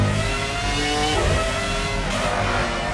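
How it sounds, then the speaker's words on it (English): Formula 1 car in the PlayStation 2 racing game F1 05 pulling out of the pits, a steady loud engine drone with rising revs and a brief tonal shift midway, no talk. "Michael Schumacher leaves the pits"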